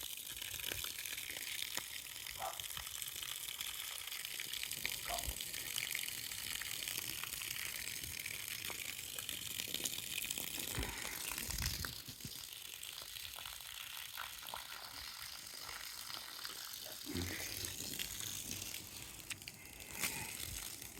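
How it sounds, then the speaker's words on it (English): Garden hose water pouring into a fish tank, a faint continuous rushing and splashing with occasional clunks and handling noises, heard alone at low level. "we're just adding a little water to the fish tank."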